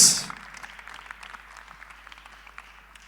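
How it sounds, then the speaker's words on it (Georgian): Applause for two fighters at a GAMA ALL IN combat-sports press conference, a burst of clapping that starts loud and quickly thins into scattered, lighter claps filling the room for about three seconds. "აპლოდისმენტები მებრძოლებს."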